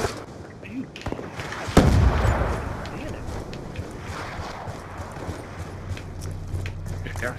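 Sniper and gunfire in a Black Ops 2 match: one heavy shot booms out, followed by scattered lighter pops and footsteps as players talk over the action.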